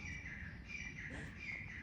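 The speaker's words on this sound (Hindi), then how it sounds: "इस एरिया में बहुत शांति होता है कि चिड़ियों की आवाज़ आती है सुबह सुबह" Birds chirp in a quiet morning setting, with faint high continuous twittering and cricket-like trills, distant and soft over low background noise.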